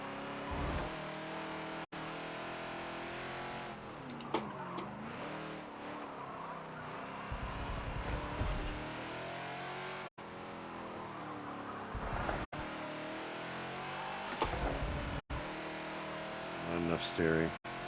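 Ford Falcon XB race car in a Forza racing game on Homestead Road Circuit, its engine droning steadily then easing off throttle with rising and falling revs and brief tire squeals, while someone talks over it throughout.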